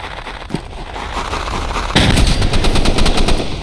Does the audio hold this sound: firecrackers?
yes